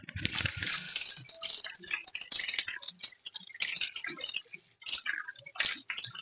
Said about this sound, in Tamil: நான் கையை வாஷ் பண்ணிக்கிறேன்ப்பா.